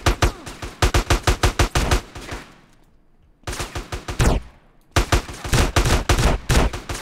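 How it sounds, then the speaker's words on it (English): Rapid bursts of automatic gunfire in Grand Theft Auto: San Andreas, loud and close, with sharp repeated shots in strings broken by short pauses and a quieter stretch of more distant fire. "who's shooting me?"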